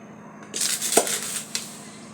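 A metal spoon clinks a few times against a pot as sugar is added for payesh: a quiet run of light taps and one sharper ring near the end, set against faint room noise.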